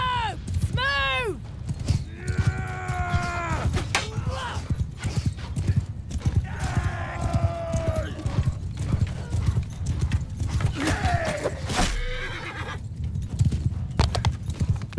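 Horses gallop in a dense, continuous clatter in the Mount & Blade 2: Bannerlord battle game, with repeated loud neighs and shouted voices over the hoofbeats.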